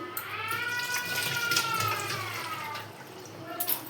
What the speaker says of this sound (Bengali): দাঁড়া হাতটা ধুয়ে নিই